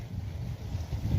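Wind blows across open countryside in a rural province, a steady low buffeting rumble against the microphone with no other distinct sounds in the brief stretch.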